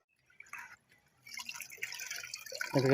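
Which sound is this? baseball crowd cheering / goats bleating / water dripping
water dripping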